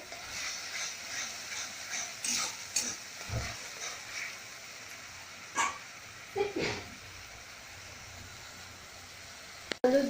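Spice paste sizzles in hot oil for potol chingri while a spoon stirs it, giving a few soft scraping strokes over a low, steady frying hiss in a home kitchen.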